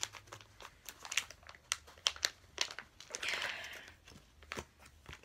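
Crinkly plastic packaging being pulled and torn open, with a run of sharp crackles and rustles close up, one longer tearing stretch in the middle.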